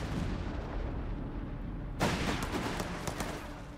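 Six-pounder anti-tank guns firing in the Company of Heroes 3 battle, a quiet rumbling stretch broken midway by a sharp, loud report followed by crackling gunfire and distant booms.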